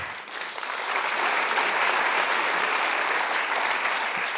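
A biosensor-contest crowd keeps up dense, steady applause throughout, an unbroken wash of many hands clapping at an even level with no voices on top.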